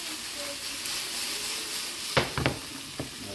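Onions cook down in a pan with a steady, close sizzle, broken near the end by a few sharp clatters and stirring knocks.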